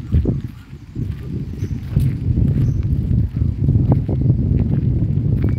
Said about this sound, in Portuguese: Tá ventando, tá uma zoadinha, não sei se tá uma zoadinha do vento, tá ventando.